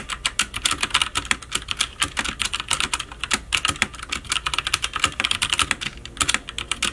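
Rapid, steady typing on a Drevo Gramr 75% mechanical keyboard with tactile switches that actuate at 55 grams, producing dense, close, crisp key clacks in an uneven rhythm with no voices.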